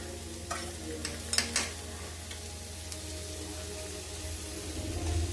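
Prawns fry in a pan for a Kerala prawn roast, with a steady close sizzle and a few scraping stirs of a utensil near the start.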